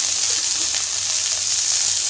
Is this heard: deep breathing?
no